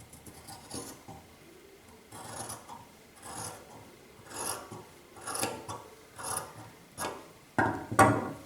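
Scissors cut through saree blouse fabric in a steady series of close, rasping snips, one after another with short pauses between them.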